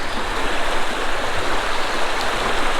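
Water in a creek rushes and splashes continuously, a close, loud, steady hiss of a flowing stream.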